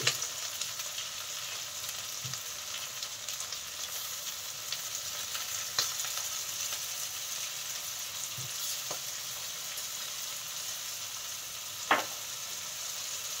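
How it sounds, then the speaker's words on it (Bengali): Food fries in a pan with a continuous soft sizzle. A few faint clicks and knocks from utensils cut through now and then, with no voices. "এখন না দিয়ে আবার ভালো করে একটু ভেজে নিতে হবে"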